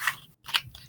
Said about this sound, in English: Sorry for the noise. I'm putting my cards away.